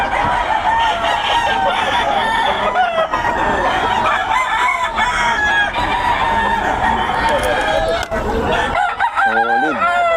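Several roosters crow repeatedly over a dense backdrop of clucking hens at a market in Bocaue, with one loud nearby crow rising near the end.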